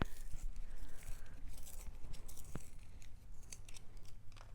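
Small handheld sharpener shaving a broken gray watercolor pencil, giving a steady close scratchy grinding of wood and lead with light clicks, no talk.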